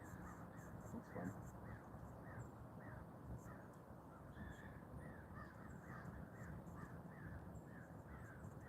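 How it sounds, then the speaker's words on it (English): Crows caw repeatedly on a winter morning beside a trout stream, a steady series of harsh calls at moderate distance over a constant broadband rush of flowing water. "Just enjoying my morning, listening to the crows."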